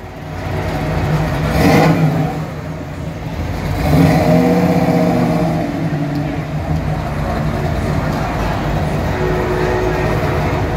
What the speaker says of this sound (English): 66 Fastback Mustang.